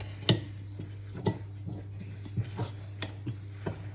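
Chickpea flour batter being mixed in a bowl, a handful of soft scattered clinks and knocks of a utensil against the bowl over a low hum, with no talking.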